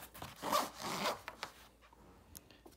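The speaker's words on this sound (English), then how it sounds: "And you can then zip it up." A zipper being drawn closed around a JETech 13.3-inch laptop sleeve holding a snug 13-inch MacBook Pro, with two long close rasping pulls followed by a few short tugs and clicks.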